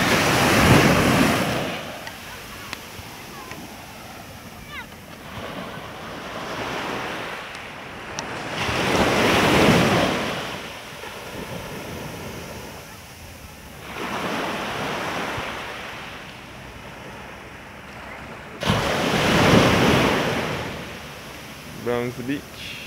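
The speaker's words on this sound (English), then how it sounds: "Browns Beach, Barbados, which is along the southwest coast of Barbados, within the Carlisle Bay area" Waves surge and wash ashore at Brownes Beach in Carlisle Bay on the southwest coast of Barbados. Loud swells roll in about every five seconds with gusty wind buffeting the microphone between them.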